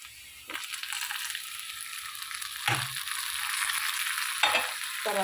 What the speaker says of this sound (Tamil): தாளித்தது இன்னும் கொஞ்சம் பொன்னிறமாக ஆகட்டும், அப்புறம் தூக்கி கொட்ட வேண்டியதான்